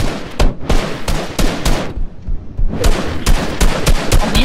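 Rapid gunfire in a multiplayer video game arena match, dense loud bursts of shots with a brief lull in the middle, crackling on and off throughout.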